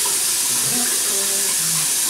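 Warm water runs steadily from a tap for hand washing, a constant close hiss filling the short moment.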